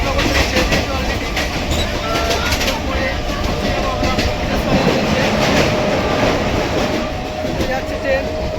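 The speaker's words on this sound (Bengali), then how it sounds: "যাচ্ছে ট্রেন" A train pulling out from Bidhannagar runs along the rails with a continuous loud rumble and rhythmic clatter, heard up close from on board, steady throughout without pauses.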